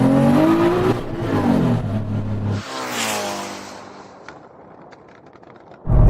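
Nissan Patrol and Ferrari SF90 launching in a drag race, a loud roaring surge of engine noise that rises in pitch, then fades into the distance before a sudden loud burst at the end.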